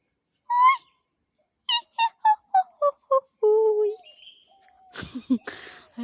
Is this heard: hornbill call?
yes